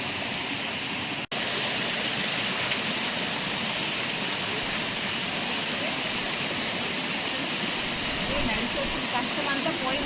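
A waterfall near Araku, a loud, steady roar of falling water with a dense rushing hiss that continues unbroken, briefly dropping out for an instant near the start.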